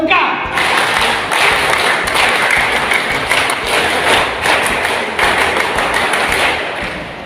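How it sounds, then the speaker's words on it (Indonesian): An audience of scouts at a Kwarda Sumsel halal bihalal gathering in the Asrama Haji Palembang hall performs the rhythmic Pramuka clap twice, loud patterned hand claps and thumps ringing through a crowded room. "kita dua kali tepuk pramuka"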